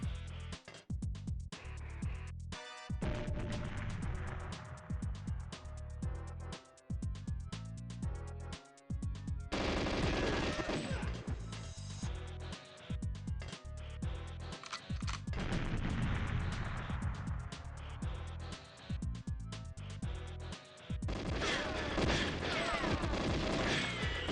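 Gunfire and grenade blasts from a GoldenEye 007 match, with dense, nearly continuous shooting and crashing bursts over loud game sound, sometimes cut by brief gaps of quiet.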